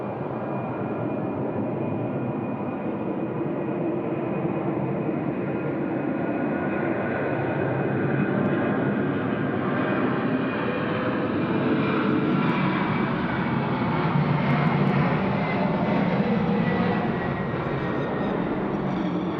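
A jet airliner takes off at night from Sydney Airport, its engine roar a broad, steady rumble that holds loud and continuous throughout, swelling slightly toward the end.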